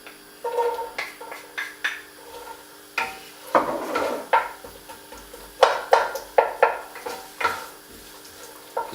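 Onions go into a pan of melted fat for an almond chicken curry and are stirred around, with a steady soft sizzle under repeated close scrapes and knocks of a utensil against the pan.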